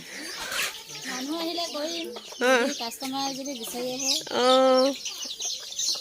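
Chickens cluck loudly and close in a steady series of rhythmic, tonal clucks and drawn-out calls, with a few longer squawks standing out.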